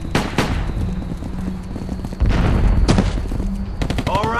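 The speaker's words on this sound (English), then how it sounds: "Shots!" Gunfire in the video game Battle Los Angeles, rapid bursts of sharp shots and heavier blasts crackling close by in an ongoing firefight, with no voices.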